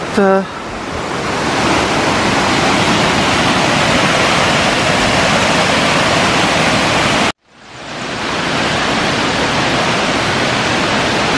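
Rushing waterfall at the Mont-Dore cascade, a loud, steady broadband roar of falling water that cuts off briefly partway through and then resumes.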